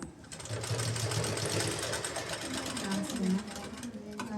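A sewing machine runs in a steady, rapid whirring stitch while sewing a joint, close and continuous, with a voice speaking over it toward the end.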